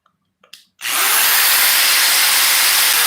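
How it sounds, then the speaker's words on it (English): A power drill starts after a few small clicks and then runs steadily and loudly, boring a hole with a bit in a continuous high whine. "They get ready to drill and they just"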